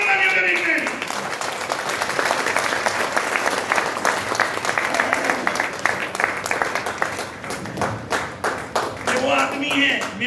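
An audience welcomes Mr. Manik Vikramrao Tage with loud, sustained clapping that carries steadily for several seconds, and a voice speaks briefly at the start and again near the end.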